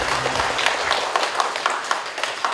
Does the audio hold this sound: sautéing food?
no